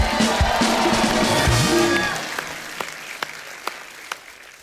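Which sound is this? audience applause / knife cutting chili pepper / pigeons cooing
audience applause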